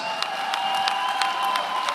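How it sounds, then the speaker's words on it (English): A crowd at a fight event applauds the two fighters after the bout, a fairly steady wash of clapping and some cheering, with faint talk underneath. "a massive round of applause for these two warriors"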